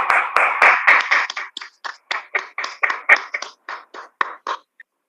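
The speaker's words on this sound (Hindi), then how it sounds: "आपकी जबरदस्त तालियों के बीच में महावीर।" An audience at a motivational speaking program applauds: a dense burst of clapping settles into a string of sharp, evenly spaced claps that thin out and stop, close and fairly loud.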